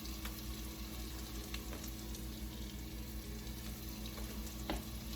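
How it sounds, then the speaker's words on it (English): Onion, celery and carrot sizzle steadily in a pot for braised short ribs, a soft, continuous frying hiss with a few faint stirring clicks, close but quiet. "And now I'm going to add in my onion, celery, and carrots."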